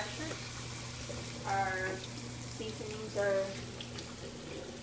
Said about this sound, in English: Let some cold water run on it.